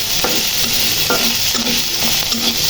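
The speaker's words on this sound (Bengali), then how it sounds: "সরষের তেল দিয়ে ভাজবো মাছটা।" Fish frying in mustard oil, a steady close sizzle with a few soft scraping stirs of a utensil in the pan, no voices.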